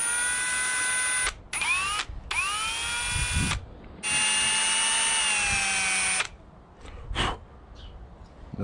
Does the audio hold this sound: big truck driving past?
no